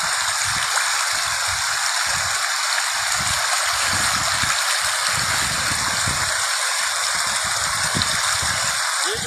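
River water flows and gushes steadily around someone standing in it at night, a loud, continuous rushing wash with no pauses.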